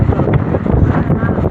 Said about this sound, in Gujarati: એટલો પવન છે વાત જ ન પૂછો.